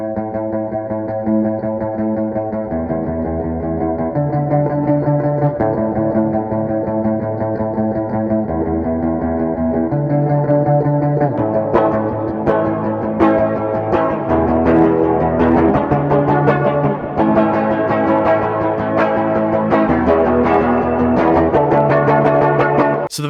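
Ending section of a lo-fi indie song in the style of Current Joys' "New Flesh": effected, slightly distorted guitar picks single strings at first, then strums fully over a steady drum beat, loud and continuous throughout with no talking.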